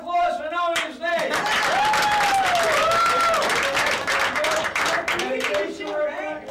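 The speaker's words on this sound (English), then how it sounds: "Big round of applause for knowing his name." An audience at a midnight comedy show breaks into loud, sustained applause mixed with cheering and a whistle, the clapping swelling after a brief pause and holding steady for several seconds.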